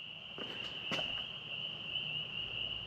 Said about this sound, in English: You can hear the spring peepers.